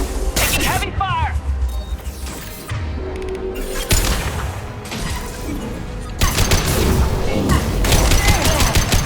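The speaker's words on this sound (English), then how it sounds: "Taking heavy fire!" Heavy gunfire in the Mass Effect 2 video game, with loud bursts of rapid shots, booming impacts and cracking blasts that come in waves over about nine seconds, mixed with game sounds and voices.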